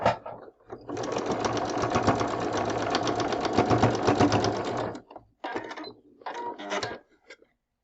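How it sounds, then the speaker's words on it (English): A sewing machine runs in a steady fast rattle for about four seconds, stitching a fabric strip onto a Christmas present quilt block, followed by a few shorter bursts of stitching; no voice is heard. "we are going to sew it on this side"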